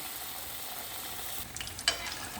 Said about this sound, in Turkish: Hemen kızgın yağı bırakıyorum.